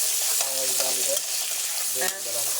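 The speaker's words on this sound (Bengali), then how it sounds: "পেঁয়াজ মরিচ দিয়ে দিলে এখন নাড়াচাড়া দিবে, এখন নাড়াচাড়া দিচ্ছে এপাশে পাশ করে" Onion and green chili fried in a pan and turned from side to side, a loud steady sizzle under short scraping strokes of the spatula, with a few tonal clanks from the utensil, no voices.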